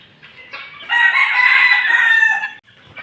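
A backyard rooster crows once, long and loud and close, rising and holding before breaking off, with soft clucking from chickens before and after.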